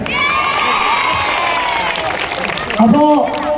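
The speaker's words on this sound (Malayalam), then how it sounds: "നിങ്ങൾക്ക് നിങ്ങൾ തന്നെ കൈയടിച്ചാണ്" Festival audience at a Tirur event in Malappuram cheering and shouting loudly as a crowd, a dense continuous roar of voices with a brief louder swell near the end.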